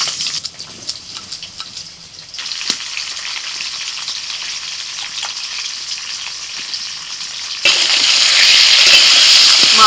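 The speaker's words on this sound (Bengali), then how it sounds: "প্রথমে আলু ভেজে নিচ্ছি।" Potato pieces frying in oil in a home kitchen: a steady bright sizzle with scattered crackles and occasional stirring, turning sharply louder and fuller near the end.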